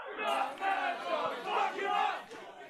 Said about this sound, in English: crowd is just the Geelong crowd are absolutely insane